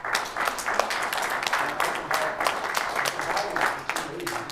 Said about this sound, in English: we need to give this man a round of applause